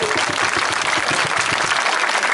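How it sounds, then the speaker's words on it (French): A circus audience applauds a volunteer during a one-man circus show, a dense, loud wash of many hands clapping steadily throughout with no voices on top. "en gros applaudissement parce que Georgette va mourir dans quelques instants"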